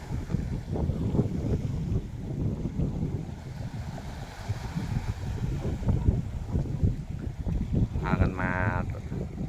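Waves surging and washing onto a beach with gusty wind buffeting the microphone, steady and loud, with a brief faint tonal sound near the end.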